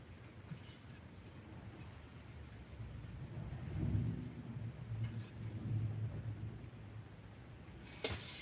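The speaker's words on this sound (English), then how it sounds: "Hear the thunder rolling in" Low thunder rumbles and rolls through a steady wash of rain, swelling at the midpoint and again shortly after before easing, with a sharp crack near the end; no one speaks.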